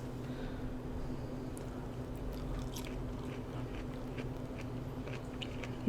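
Crunchy roasted vegetables, including sweet carrots, being chewed close to the mic in steady bites and crunches, with a soft music hum underneath.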